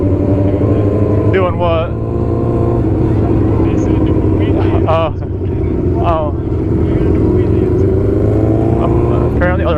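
Motorcycles ride past on a road beside a running bike, their engines rising and falling in several rapid revving passes over a loud, constant engine drone and wind roar, while someone talks briefly.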